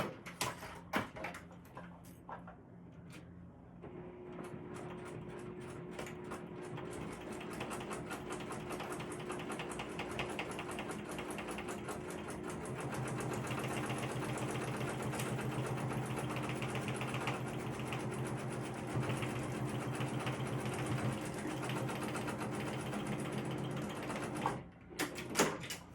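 Sewing machine stitching a crossbody bag: a steady, close, fast mechanical whirring chatter that runs for most of the stretch and grows slightly heavier midway, with a few clicks at the start and end.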